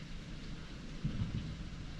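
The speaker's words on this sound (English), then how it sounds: "we're having a bad thunderstorm right now, so the lights just flickered" Steady heavy rain during a bad thunderstorm forms a dense wash of noise, with a low rumble of thunder swelling briefly in the middle.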